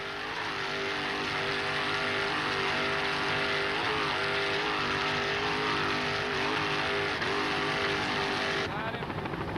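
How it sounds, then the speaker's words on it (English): A 28-foot Pantera offshore powerboat with a single 700-horsepower inboard and Mercruiser drive roars past at the Miami Beach Grand Prix, its engine drone steady and loud, rising and falling slightly, cutting off abruptly near the end. "a 28-foot Pantera powered by one 700-horsepower progressive inboard with a Mercruiser drive"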